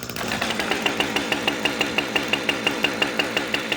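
A chainsaw engine runs at fast idle on full choke just after starting, a loud, close, even two-stroke putter with sharp regular pulses about five times a second.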